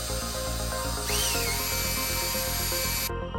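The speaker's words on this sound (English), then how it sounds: "I mix it with the cordless drill," A small cordless drill mixing epoxy in a cup whirs steadily at low speed with a rhythmic mechanical hum and a rising whine partway through, stopping abruptly near the end.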